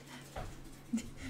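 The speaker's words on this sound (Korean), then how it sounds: "강아지가 징징" Dog whining nearby, a couple of short high whimpers with soft panting breaths between them, faint under a low room hum.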